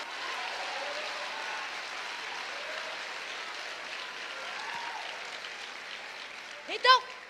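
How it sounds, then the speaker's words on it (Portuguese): A church congregation claps together in a steady, moderately distant wash of applause, with a preacher's voice rising over it near the end. "Se é para aplaudir, aplaude sem preguiça,"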